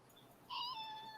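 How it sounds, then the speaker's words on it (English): A pet kitten gives a single faint, drawn-out meow indoors, rising briefly and then trailing off, heard alone against a quiet room. "if you hear a sound, bro, that's my cat."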